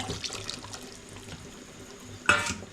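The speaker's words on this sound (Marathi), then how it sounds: "तर ते पाणी त्याच्यात घातलेलं आहे" Strained crab water pours and splashes into a pot nearby, with a brief louder splash near the end.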